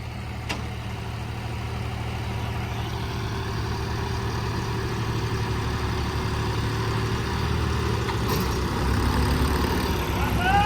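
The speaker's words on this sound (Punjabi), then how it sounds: "ਕੱਲਾ ਟਰੈਕਟਰ ਤੇ ਮਿੰਟ 'ਚ ਨਿਕਲ ਗਿਆ" A steady, low tractor engine rumble idles continuously at close range, holding an even, heavy drone throughout.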